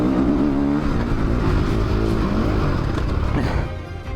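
A 450 dirt bike accelerates across a motocross track, its engine roaring loud and close with rising, shifting revs that ease off slightly near the end. No voices.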